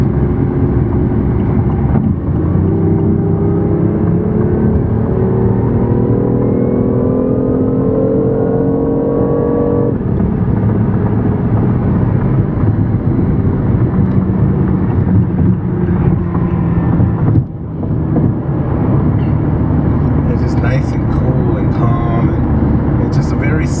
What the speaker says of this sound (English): The sound on this car is just amazing.